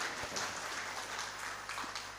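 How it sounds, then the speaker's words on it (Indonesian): Audience clapping through a hall during a formal installation ceremony for PGRI school principals in Malang, honouring the plenary board; steady, moderately faint applause with scattered individual claps. "Tepuk tangan untuk pengurus pleno."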